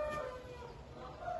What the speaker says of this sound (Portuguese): Aí tá a galinha estrela da cocheira do Estúdio Botinha, Vanessinha